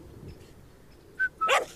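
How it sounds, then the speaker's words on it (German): A dog gives a couple of short, sharp barks close by after a quiet stretch, the second burst louder and slightly longer. "Juri. Fast hat man das Gefühl, der Hund hätte aufgeben wollen, Juri."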